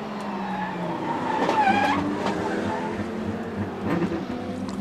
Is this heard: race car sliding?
yes